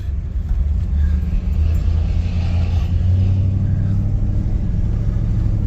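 The 1959 Devin Salerno Special drives away down a street, its engine a steady low rumble that holds for several seconds with no one talking.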